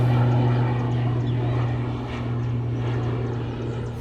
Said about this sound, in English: that's another plane. It's just taken off from Ogle Airport.